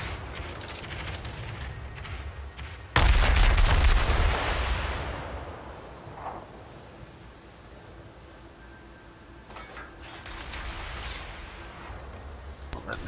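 Naval gunfire in a warship battle game, including the Nagato: a loud booming salvo crashes in at about three seconds and rumbles away, with fainter distant shots near the end over steady background noise.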